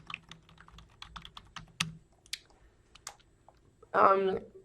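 Scattered clicking keystrokes on a computer keyboard, closely miked and irregular, with a brief louder burst of speech near the end.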